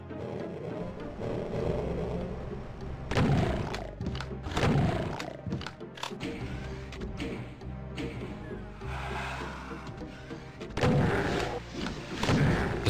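Shotgun blasts in DOOM II, loud booming reports at irregular intervals over a continuous game soundscape of roars and rumbling, no talk.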